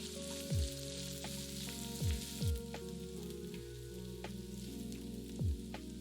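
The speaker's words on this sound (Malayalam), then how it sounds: "10 ചെറിയ ഉള്ളി നീളത്തിലരിഞ്ഞത്, 1 സവാള നീളത്തിലരിഞ്ഞത്, ഇതെല്ലാം കൂടി ഇട്ട് നന്നായിട്ട് വഴറ്റുക" Sliced small shallots and onion sautéing in oil in a pan for beans mezhukkupuratti, a soft steady sizzle with a few quiet stirring scrapes and no talk.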